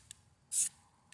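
A single short hiss of spray paint bursts from a can onto a Benjamin Vaporizer pellet gun, bracketed by faint rattles, quiet and close.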